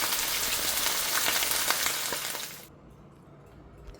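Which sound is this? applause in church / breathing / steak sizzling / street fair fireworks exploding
steak sizzling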